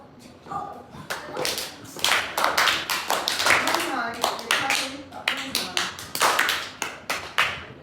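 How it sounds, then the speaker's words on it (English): Hands clap in short sharp bursts, several claps in irregular groups, heard close and mixed with a child's and an adult's speech during a phonics lesson. "Yes, you should clap."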